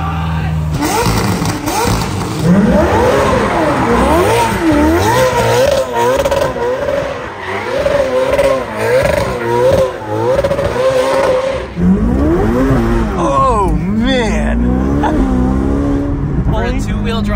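A Ferrari with an aggressive 1K Motorsports tune revs hard and repeatedly, the engine note rising and falling with sharp pops and bangs, loud and close, with some scraping near the end.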